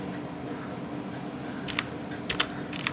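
Computer keyboard keys are pressed quietly in a few sparse clicks over a steady background hum.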